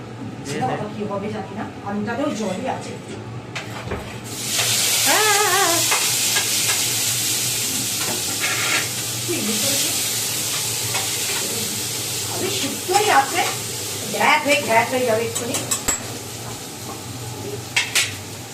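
Potatoes dropped into a hot pan hiss into a loud, steady sizzle that carries on throughout, with stirring and the clink of utensils beneath it while people chat close by.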